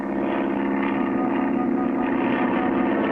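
A propeller plane engine in a 1959 Clutch Cargo cartoon drones steadily and loudly, a continuous buzzing hum with no pauses throughout.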